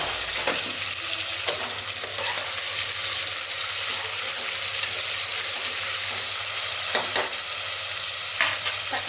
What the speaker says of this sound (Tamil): தக்காளி நல்லா வதங்கட்டும்.